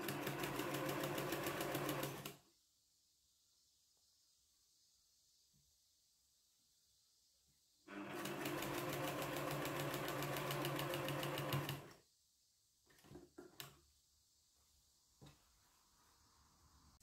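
A sewing machine stitches a border onto a patchwork quilt top, running in two steady bursts of rapid even stitching with a quiet pause between, then a few faint handling clicks.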